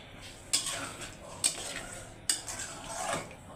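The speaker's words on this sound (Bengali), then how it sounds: "এই যে মাংসগুলাকে এখন আস্তে আস্তে কষিয়ে নেব।" Meat being stirred and slowly sautéed in a pot, a metal spoon scraping and clinking against the pan in a few distinct strokes over a faint sizzle, close by and without talking.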